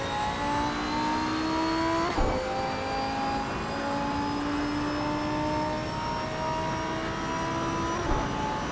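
A Lamborghini Huracan race car in a racing video game drones at high revs, holding a steady engine whine with brief shift dips, continuous and up close with no talk.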